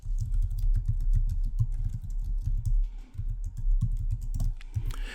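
A sentence being typed on a computer keyboard: a fast, irregular run of close, crisp key clacks with brief pauses between bursts, steady and alone without voices for about five seconds.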